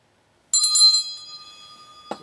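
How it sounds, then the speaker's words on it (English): A hand bell is struck once and rings out clearly, close by, with a bright shimmering tone that slowly fades. A short knock follows near the end, as if the bell is set down. "I'll kind of move my bell after I ring it, of course."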